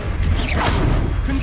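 Levioso levitation spell in the Hogwarts Legacy video game, a single sweeping whoosh with a rising swish and a faint thud, loud and close over rumbling game sound.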